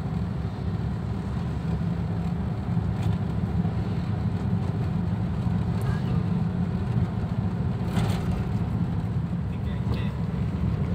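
A 2009 Daihatsu Terios driving and accelerating in fifth gear, a steady low engine drone and road rumble from inside the cabin, continuous and fairly loud with people talking over it.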